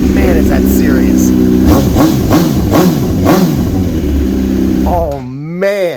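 A 2007 Honda CBR1000RR superbike engine idles loudly nearby and then rises in sharp revs near the end, with a voice speaking over the rumble.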